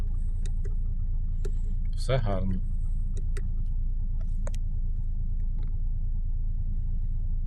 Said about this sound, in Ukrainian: Заводимо. Запускаємо двигун, все.